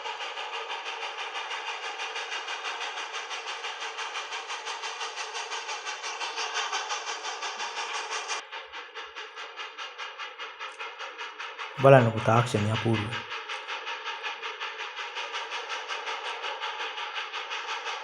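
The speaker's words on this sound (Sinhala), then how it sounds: "ඔන්න පීලි මාරු වෙනවා. ඔන්න කෝච්චිය යනවා." A train rolls over switching tracks, a steady mechanical rumble with regular rhythmic clatter and a brief louder burst partway through, while someone talks over it.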